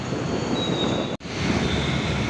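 A metro train at Rajajinagar metro station in Bengaluru rumbles steadily with a broad, continuous roar and a faint high whine, cut by a brief drop in sound midway, then resuming.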